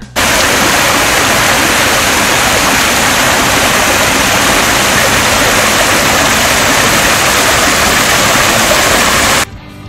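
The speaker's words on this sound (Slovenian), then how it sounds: "potem pa kot gorski potok za svojim žuborenjem prekinja ptičje petje" Water flowing through a rock-garden water feature at the New York botanical garden, like a babbling mountain stream. The rush is loud and continuous, then drops off abruptly near the end.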